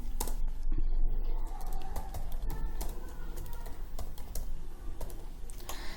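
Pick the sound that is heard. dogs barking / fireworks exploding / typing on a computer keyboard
typing on a computer keyboard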